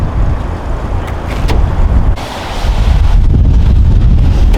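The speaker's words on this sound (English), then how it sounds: "It's windy out here." Strong wind buffets the microphone outdoors at a racetrack, with heavy, rumbling low gusts, loud and continuous, with brief crackling bumps throughout.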